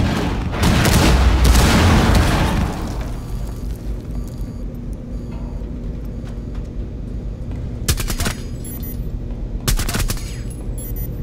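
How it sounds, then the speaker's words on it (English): Cluster charge explosions in Rainbow Six Siege on the Yacht map: a heavy, loud burst of booming blasts for the first few seconds, then a low rumble, with two more sharp detonations cracking out near the end. "Cluster charge deployed."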